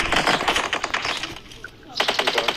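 Rapid automatic gunfire in a video game crackles in fast bursts, loud and close, breaks off briefly, then resumes with another burst, with faint voices in the background.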